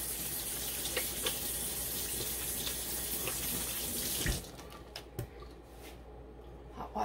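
Hot water gushes steadily from a kitchen tap into the sink for about four seconds, then stops, leaving faint clatters and drips.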